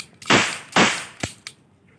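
Cheap toy cap gun firing: two sharp, loud cracks followed by two smaller snapping pops, close up with no talking.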